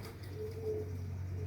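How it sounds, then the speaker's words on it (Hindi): Pigeons from a breeder's loft coo softly in a low, steady drone, with a few faint, drawn-out tones rising over it. "ये मियाँ रऊफ़ ललियानी साहब के घर के कबूतर हैं जी।"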